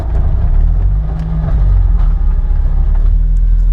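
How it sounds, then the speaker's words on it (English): A Mazda Miata Rocket Bunny build, fresh spark plugs and wires fitted, drives along with a loud, close, steady low engine drone and road rumble, without talk. "I haven't been this excited to drive the Miata since we got it"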